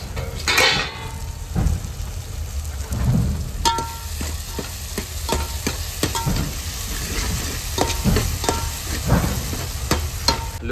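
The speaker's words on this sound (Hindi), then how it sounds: "प्याज टमाटर छोक दिए हैं" Onion and tomato sautéing in a pan with potato and peas in a home kitchen: a close, continuous sizzle with frequent metallic scrapes and clinks of the spoon against the pan.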